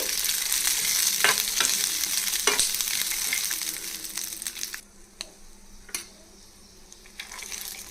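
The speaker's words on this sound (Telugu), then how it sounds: "ఈ రెండు మంచిగా వేగాలండి" Loud sizzling as peanuts and green chillies fry, with scraping stir strokes and crackles; the hiss dips briefly midway, then picks back up.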